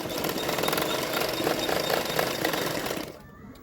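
A sewing machine runs steadily for about three seconds, stitching the side seams of a double katori blouse, a continuous close mechanical whir that stops abruptly near the end.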